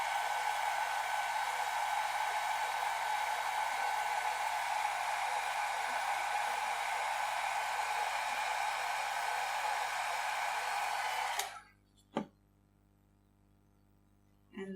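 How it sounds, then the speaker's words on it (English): A hair dryer blows steady, loud broadband air onto alcohol ink for about eleven seconds, then cuts off abruptly, followed by a single brief knock and near silence. "immediately hold the dryer at the center so that the ink can dry."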